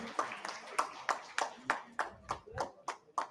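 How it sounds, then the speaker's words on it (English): At a school quality conclave, a small audience gives a short round of applause during a memento presentation, sparse hand claps at an even pace, fairly faint and distant. "Please, big round of applause."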